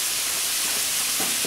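Vegetables and pepper strips fry in a pan with a steady broadband sizzle, alone and fairly close, with a few faint stirring clicks and no talking.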